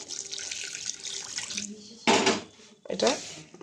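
Water is added a little at a time to a semolina and flour dough mix for pitha, heard as close splashing pours in short bursts with small pauses, alongside bowl handling noises.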